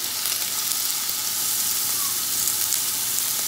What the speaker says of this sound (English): just going to let the shrimp cook down